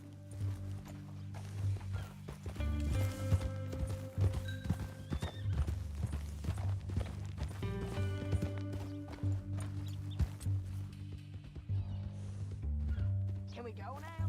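Horse hooves clip-clop in Red Dead Redemption 2, a steady walking rhythm of thuds that slows and pauses around the middle, while voices talk over it and a horse briefly whinnies.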